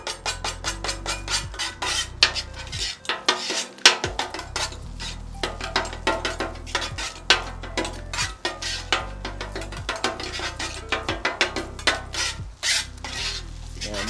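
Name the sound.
chopping eggs on a hibachi grill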